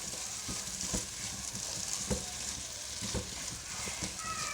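Egg keema masala, chopped egg in masala, being stirred and mixed in a frying pan, with a soft continuous sizzle and recurring scraping strokes of the spoon, quiet and close.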